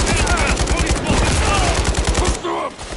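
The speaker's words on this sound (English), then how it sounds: "Suppressive fire here now!" Rapid automatic gunfire from a Call of Duty Modern Warfare 3 campaign mission: a loud, close, continuous burst of fast shots that stops abruptly, leaving a short moment of quieter battle noise.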